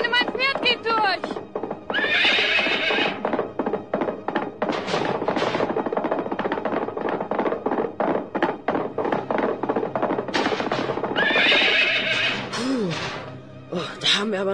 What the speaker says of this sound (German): mein Pferd geht durch!